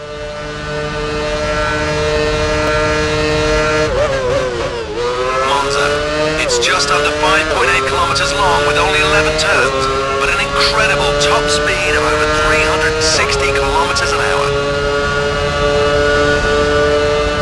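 Formula One car in the racing game F1 Championship Edition, throttling up along the final straight of a course, a loud high-pitched engine whine rising through gear shifts over about seventeen seconds with continuous commentary over it.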